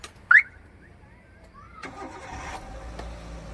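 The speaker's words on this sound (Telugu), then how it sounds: "ఒకసారి మీకు ఇంజన్ కూడా ఆన్ చేసి చూపిస్తాను చూడండి." A well-maintained 2008 Hyundai Santro Xing GLS hatchback is heard, with a short electronic chirp, then its quiet engine catching midway and settling into a soft, low idle close by.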